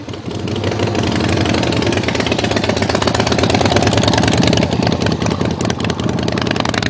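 A custom-built motorcycle engine runs hard under power on a track, giving a loud, steady, rough mechanical roar that holds for the full stretch with no talking.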